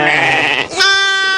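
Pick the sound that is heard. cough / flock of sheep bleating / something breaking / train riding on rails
flock of sheep bleating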